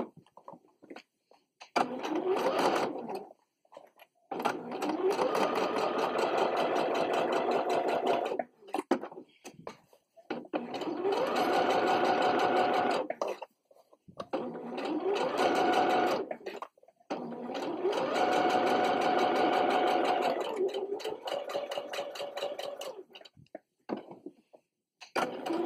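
A sewing machine stitches a wet bag for cloth pads in a run of long, steady bursts, each lasting a few seconds, separated by short pauses. The sound is close and loud.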